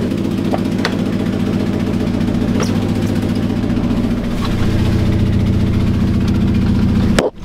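A car engine with an exhaust leak idling loudly, a close, steady low rumble with a rapid pulsing beat and a few faint ticks, continuing without pause until a sudden cutoff at the end.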